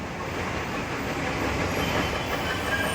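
Train at Kandivali railway station, a steady loud rumble of rolling railcars with wheel clatter and a faint squeal running continuously throughout, with no voices.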